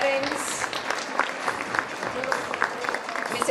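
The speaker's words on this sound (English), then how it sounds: "A huge round of applause, parents." Audience clapping at a school annual prize distribution, a steady broad wash of many hands applauding together at moderate distance, continuous for a few seconds with no break.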